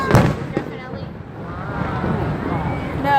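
Fireworks burst over Niagara Falls, with a sharp loud boom near the start and then a steady rumbling wash of crackle and distant explosions under ongoing crowd noise and nearby talking.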